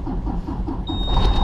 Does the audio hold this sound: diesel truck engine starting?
yes